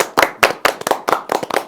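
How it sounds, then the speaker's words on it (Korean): A studio audience on a Korean political talk broadcast claps in several distinct rhythmic bursts, each a sharp cluster of hand claps close by, with no one speaking. "박수를 좀 더 두껍게 그리고 세게 치면서 여러분들과 함께 방송하겠습니다"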